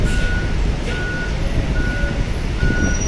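Loud repeating reversing beeps, evenly spaced, over a heavy engine rumble from a bus reversing close by in a parking lot.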